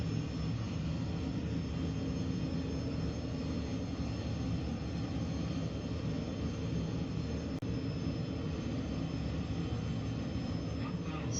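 Airliner on ILS approach to runway 04 right at 3000 feet in a flight simulator, a steady broadband engine and airflow drone that holds evenly at moderate level throughout, with no breaks.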